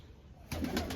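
A soft pigeon coo rises briefly out of quiet background, close and gentle, with no voices.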